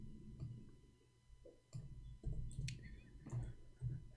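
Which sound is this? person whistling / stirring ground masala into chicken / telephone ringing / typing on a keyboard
typing on a keyboard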